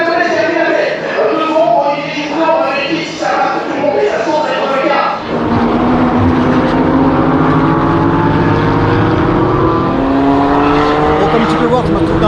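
GT4 race cars roar off the start of a race, a dense loud wall of engines with rising revs that swells and thickens midway as the pack accelerates past, continuous throughout.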